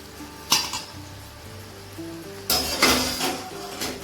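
Crispy fried potato peel chips are lifted from a pan of hot oil onto a plate, giving quiet sizzling under sharp metallic scrapes and clinks of a utensil against the pan, with no talking.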